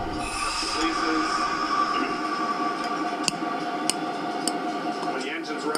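A locomotive braking during a demonstration, with a sustained metallic wheel squeal and rumbling rail noise punctuated by sharp clicks. Someone talks over it.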